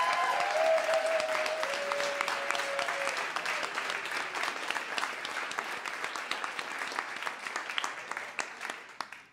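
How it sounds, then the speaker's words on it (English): A live show audience claps for the evening's speakers, starting with a brief cheer or whoop over full applause that gradually thins into separate, uneven claps. "let's just all give a big round of applause to all four of our speakers"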